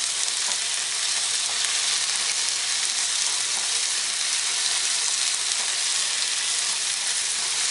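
Frozen spinach fries in a pan over medium-high heat, giving a steady, dense sizzle with the soft scrape of stirring running continuously and close by, with no voices.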